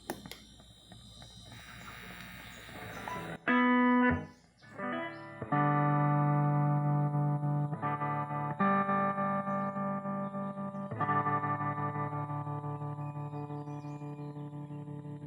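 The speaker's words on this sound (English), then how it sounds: "now I'm gonna click the vibe." Fender Deluxe Custom Reverb reissue tube amp with a burned screen resistor, vibrato switched on, carrying sustained guitar chords and ringing notes that pulse and decay, loud and close with no talking.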